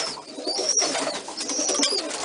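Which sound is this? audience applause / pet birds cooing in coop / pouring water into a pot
pet birds cooing in coop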